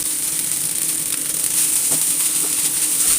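Onion and cooked vermicelli sizzling in a pan while being stirred, a continuous bright frying hiss with occasional soft scraping knocks, close and steady.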